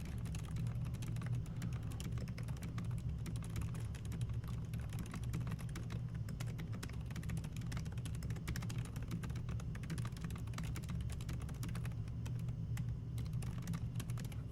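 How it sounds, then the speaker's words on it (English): Fast typing on a computer keyboard during a typing test, a continuous dense patter of quiet key clicks over a low steady hum, no talking. "Now it thinks I cheated, so I have to do this typing thing."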